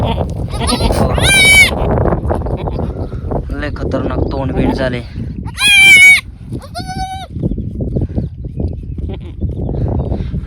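A small goat that has just borne three kids, two male and one female, bleats loudly and repeatedly at close range, with several cries overlapping someone talking throughout.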